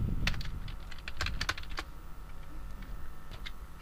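Python code is typed on a computer keyboard, with a burst of close, rapid key clicks early on, then scattered, sparser taps over a steady low background hum, and nobody speaking.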